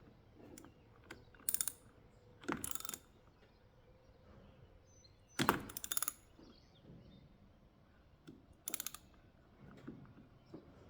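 Ratchet wrench tightening hose clamps on a Ford F150, heard as several short bursts of rapid clicking spaced a few seconds apart, close and fairly loud against a quiet background.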